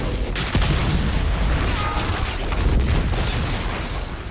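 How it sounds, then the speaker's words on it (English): A massive film explosion breaching the Hornburg fortress wall at Helm's Deep, a loud sustained rumbling boom with a sharp burst near the start and debris roar throughout. "the wall is breached by a massive explosion caused by a device created by Saruman"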